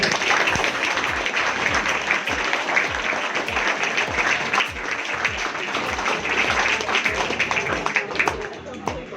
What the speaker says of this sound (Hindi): तालियां पर बजाइए